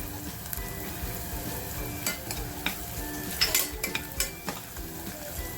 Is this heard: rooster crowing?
no